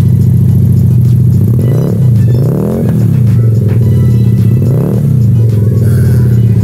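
A loud custom Keeway motorcycle engine rumbles steadily, then revs up in several quick throttle blips that rise and fall, close by with no talking.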